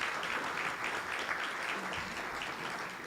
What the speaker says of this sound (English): So round of applause for Joe